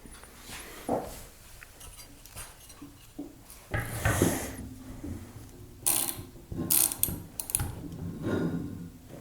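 A ratchet tightens bolts on a gun wall mounting bracket, close and fairly quiet, with irregular runs of rapid clicking between handling knocks and pauses.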